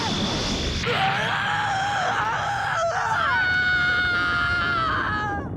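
An anime character lets out an intense, hot-blooded scream in a sci-fi series, a loud, sustained, strained yell that wavers in pitch and runs almost continuously with one brief break for breath.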